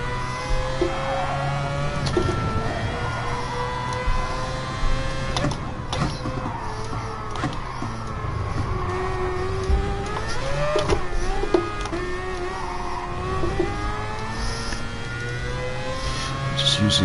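A race car engine drives through a PS4 racing game lap, holding a steady loud drone with rising and falling pitch sweeps through gear changes and corners, occasional sharp knocks, and no voices.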